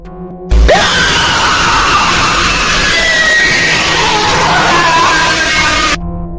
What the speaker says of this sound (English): You will also hear loud, distorted screams that are very disturbing.